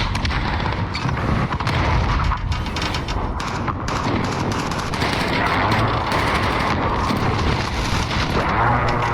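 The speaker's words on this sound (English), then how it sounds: "Enemy precision airstrike. Take cover." Heavy explosions from a precision airstrike in a military shooter game pound continuously alongside dense gunfire, loud and close with an unbroken roar and no clear speech.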